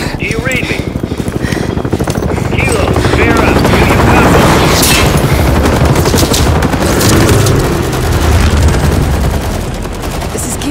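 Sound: gunfire and explosions in an ambush, from the video game Call of Duty: Modern Warfare 3

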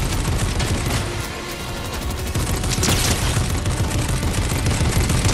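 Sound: gunfire in the video game Fortnite

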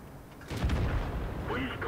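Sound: tank cannon shots in a tank video game

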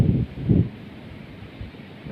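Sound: wind blowing through reeds at a fishing spot

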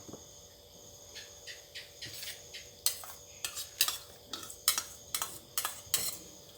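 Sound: tossing crispy rice salad with dressing and peanuts

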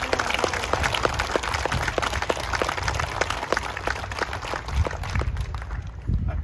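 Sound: applause for Denair Fire Department

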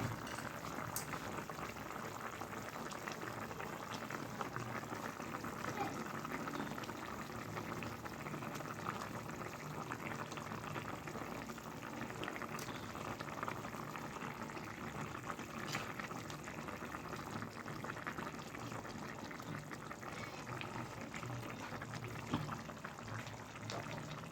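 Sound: curry with potatoes simmering in a pot

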